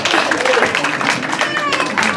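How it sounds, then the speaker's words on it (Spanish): An audience at a Virgin of Guadalupe festival claps in a brisk, steady patter while a voice talks over the applause throughout. "Un aplauso, qué barbaridad."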